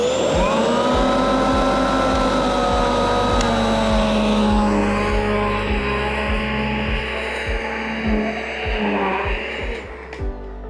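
A Riccar upright vacuum cleaner's steady motorized whine with strong humming tones drones continuously, shifting pitch slightly as its height is lowered, loud and close.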